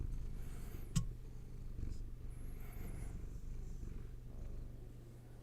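A pet cat purring close by: a steady, low, rumbling purr that carries through the whole stretch with no voices.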